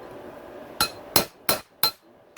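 Four sharp metallic hammer blows, evenly spaced, drive a bearing off a dirt bike steering stem with a punch and hammer; close, loud, clinking strikes over a quiet workshop background with no talking.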